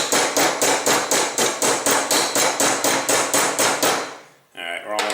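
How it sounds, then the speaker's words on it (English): A Glock sight is tapped into the slide with an aluminum piece in a fast, even run of about twenty loud, close metallic taps. The tapping stops abruptly, leaving a brief clatter and silence. "We're going to go ahead and tap it in there with the aluminum"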